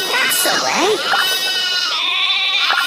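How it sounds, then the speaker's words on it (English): Sheep bleating loudly and close in a Thomas & Friends cartoon, several wavering cries overlapping against a continuous background. "Some sheep have wandered off from the farm."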